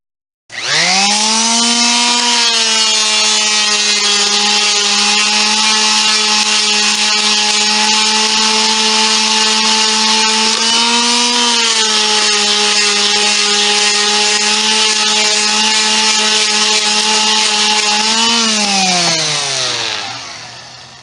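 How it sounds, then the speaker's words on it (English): A power sander runs continuously over wood to strip off old adhesive. Its loud, steady tonal whine holds for about twenty seconds, dips slightly in pitch partway through, then winds down at the end. "See the difference that makes running the sander over it? The adhesive just peels right off."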